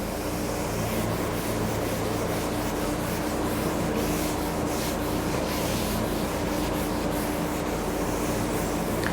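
Something is rubbed steadily on a surface during an accounting lesson, a continuous close scratchy rasp with faint repeated strokes and no talking.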